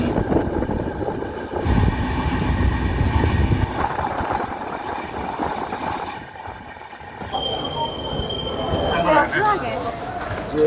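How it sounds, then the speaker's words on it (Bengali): The 18463 Bhubaneswar–Bengaluru Prashanti Express running, a steady rumbling rattle of wheels and carriages with a brief squeal near the end, heard close and continuous while a person talks over it. "আমার পেছনে দাঁড়িয়ে আছে এই ট্রেন, এটা হচ্ছে 18463 ভুবনেশ্বর বেঙ্গালুরু প্রশান্তি এক্সপ্রেস।"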